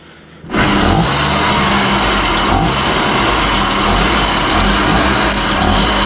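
A small Karpaty moped engine fitted with a Honda Dio piston starts abruptly and keeps running, a loud, close, steady buzzing idle with a rattly mechanical texture.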